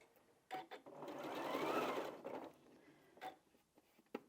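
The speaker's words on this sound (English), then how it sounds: "I'm sewing on a new machine. This is the Janome Memorycraft 9480 QC Professional." A Janome Memorycraft 9480 QC Professional sewing machine stitches steadily, its motor whirring up and then winding down, with a few clicks and handling knocks around it.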